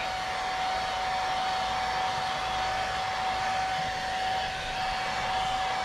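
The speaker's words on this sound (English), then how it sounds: "I'll just hit it with an air dryer" An air dryer blows continuously on airbrushed paint with a steady whooshing roar and a constant high whine, unbroken for several seconds.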